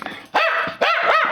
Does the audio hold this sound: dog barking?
yes